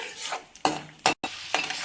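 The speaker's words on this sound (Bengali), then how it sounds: "বাদামটা নাড়াচাড়া করে আমি ভেজে তুলে নিচ্ছি" Repeated scraping strokes of stirring raw peanuts in a pan over a steady oil sizzle, three or four sharp bursts with brief pauses between.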